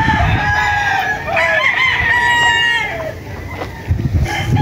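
Roosters crow loudly and close in a chicken breeding area where many hens are kept with each cock, overlapping crows with clucking hens and brief talk around them.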